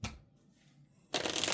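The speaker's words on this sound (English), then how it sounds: "Still going to shuffle again." Tarot cards from a Housewife's Tarot deck being shuffled, with a short riffle at the start, a quiet pause, then a louder sustained burst of card shuffling close by.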